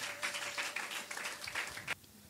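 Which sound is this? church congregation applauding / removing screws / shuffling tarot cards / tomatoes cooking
church congregation applauding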